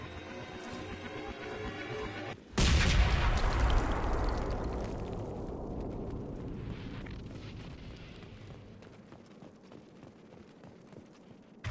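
A grenade goes off in the video game Mass Effect 2, a sudden heavy boom that swells loud and then rolls into a long fading rumble of debris over several seconds, following a quieter stretch of game ambience.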